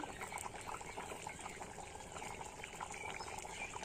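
Village chicken curry simmers in a kadai, a steady low bubbling and sputtering that runs on evenly and quietly, with no voices over it.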